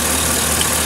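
A car engine idling low with a cylinder misfire gives a loud, steady low drone that holds evenly through the brief moment, heard alone without any talk.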